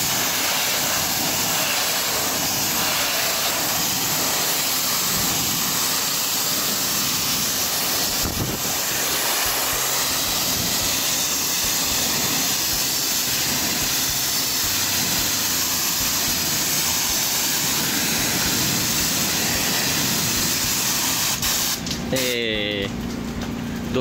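A high-pressure washer sprays water onto a building at close range, a loud, unbroken hiss of spray lasting the whole time, with a brief knock partway through.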